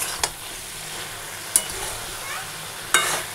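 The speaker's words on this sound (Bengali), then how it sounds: "ফোড়নে দিয়েছি শুকনো লঙ্কা আর 5 ফোড়ন" Dry red chillies and five-spice seeds tempering in hot oil, a steady close sizzle broken by three sharp crackles or stirring knocks spaced across a few seconds, with no talk.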